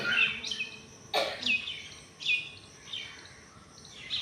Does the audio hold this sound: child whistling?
no